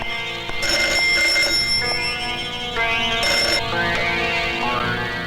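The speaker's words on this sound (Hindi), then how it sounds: "शायद उसी का फोन हो।" A telephone bell rings loud and close in an indoor movie scene, sounding in repeated bursts with short gaps between them and no talking over it.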